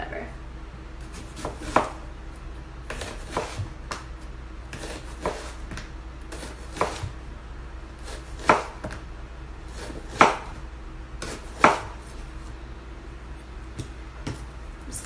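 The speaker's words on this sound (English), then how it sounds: "Look at this beautiful onion. Core intact, and now I'm just gonna slice this way." A knife cuts through an onion on a board, slicing it into thin rings with a series of irregular, close, crisp chops and taps spaced a second or two apart against a quiet kitchen background.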